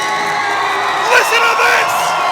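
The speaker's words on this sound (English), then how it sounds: "The crowd on their feet. This place is deafening." A packed arena crowd roars and whoops at the XFC 17 mixed martial arts event, a loud continuous wall of cheering that swells briefly in the middle.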